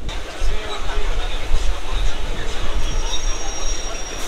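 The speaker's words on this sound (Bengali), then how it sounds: "বালিগঞ্জ জাংশনে 2 নম্বর প্ল্যাটফর্মে দাঁড়ালো এসে ট্রেন।" A local train pulls into platform 2 at Ballygunge Junction in Kolkata, with a close, rumbling rail roar and faint wheel squeal under a thin high whine.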